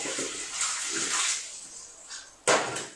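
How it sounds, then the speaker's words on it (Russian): Water poured out of an Esbit camping cook pot after boiling on an alcohol burner, heard as a few splashing gushes with a louder final burst near the end, close and alone. "Вылил воду и покажу"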